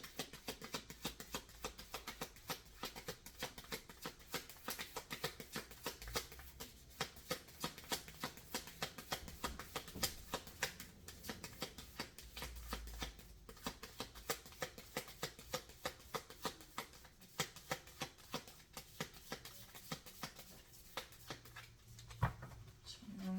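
Tarot cards are shuffled continuously for a long stretch, a dense run of soft riffling and flicking close to the microphone, quiet and steady.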